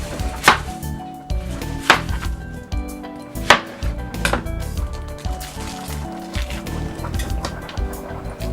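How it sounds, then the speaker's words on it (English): A knife chops an onion on a wooden board with sharp, close, irregularly spaced cuts over quiet kitchen background, no voices. "Cut an onion while we wait."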